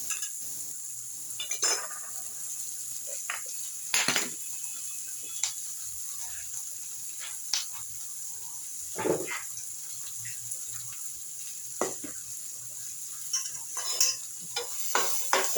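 Onion frying over high heat in a pan, a faint steady hiss with scattered stirring clinks and scrapes of a utensil against the pan, spaced irregularly and coming closer together toward the end.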